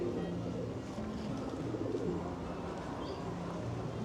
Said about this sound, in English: There are so many birds.